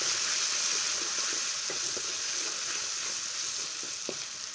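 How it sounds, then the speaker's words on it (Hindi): A pan sizzles steadily and loudly while a spaghetti mixture for chicken vegetable spaghetti, seasoned with salt and black pepper, is stirred, with faint scraping clicks scattered through the continuous hiss. "अब इसको अच्छी तरह से मिक्स कर देते हैं।"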